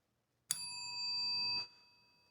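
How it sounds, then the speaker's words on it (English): A single bright bell-like notification chime rings out once with a sharp strike and a ringing tone of about a second in a quiet room before fading quickly. "That's the email bell"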